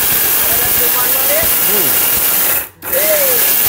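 A powerful mixer-grinder blender roars steadily at high speed right after being switched into gear, loud and continuous, with one brief drop near the end before it resumes.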